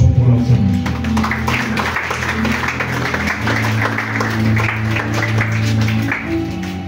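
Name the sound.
applause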